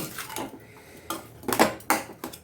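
A spoon mixes a potato cutlet mixture of potato and bread in a bowl, giving a handful of soft, irregular clinks and scrapes, close and fairly quiet.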